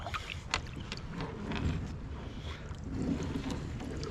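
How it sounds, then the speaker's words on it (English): Dinghy paddle stroking water beside a pirogue on a Louisiana swamp, a soft rhythmic slosh and swish of water with light wind noise over the microphone, close and steady with no talk. "so we're using this freaking dinghy paddle."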